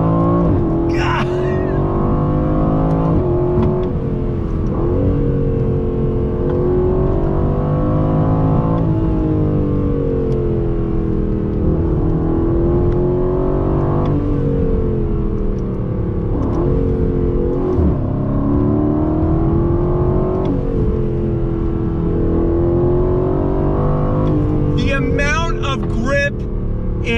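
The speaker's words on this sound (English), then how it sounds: "You hear the growl of that V8 and the way the boost," A 2020 Aston Martin Vantage V8 growls loudly and continuously as it accelerates in second gear through twisty roads, its pitch rising and falling with throttle changes while someone talks over it.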